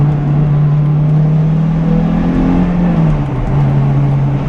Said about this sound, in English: The exhaust isn't bad, it really doesn't drone much.